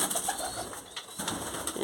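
Pigeons coo softly in a loft, several low rounded calls repeating through a short stretch at moderate distance, with no one speaking.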